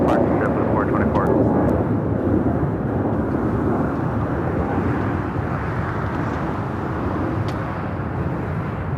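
An Emirates Airbus A380 jet airliner at Los Angeles LAX gives a loud, steady broadband engine roar that holds for the whole stretch, with a faint radio voice in the background.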